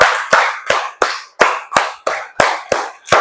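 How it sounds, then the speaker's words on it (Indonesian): Children in a grade 4 classroom clap in a counted rhythm, giving nine sharp, loud, evenly spaced claps over a few seconds with no talking. "Tepuk 1, tepuk 2, tepuk 3, tepuk 4, tepuk 5, tepuk 5 2 kali"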